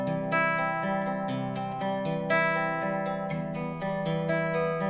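Clean electric guitar with no effects applied, playing sustained chords and notes in a steady, evenly paced rhythm, close and moderately loud with no voices.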